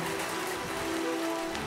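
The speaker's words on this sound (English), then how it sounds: "Here comes the hail!" Hail falling during a Midwest tornado-alley storm: a dense, continuous hiss and patter of ice hitting surfaces, loud and close, with no voices.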